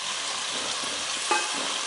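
Chopped onions fry with mustard seeds and fenugreek in a pan for fish curry, making a steady, close, hissing sizzle with a brief stir or clink partway through.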